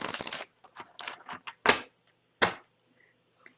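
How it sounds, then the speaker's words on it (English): Tarot or oracle cards are shuffled by hand, giving a quick flurry of crisp riffling flicks followed by a few sharper separate card slaps. The sound is close and clear, with no talking. "Always like to do the shuffle live so you can hear them,"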